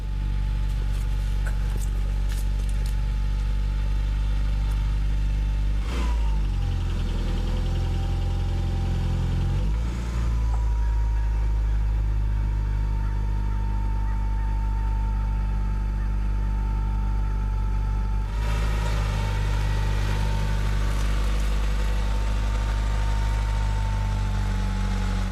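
The engine of a 1989-93 Honda Accord 4x4 runs continuously with a low, steady hum, punctuated by a few clunks and brief rises in revs, heard close throughout.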